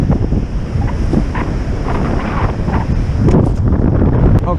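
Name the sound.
wind blowing on a beach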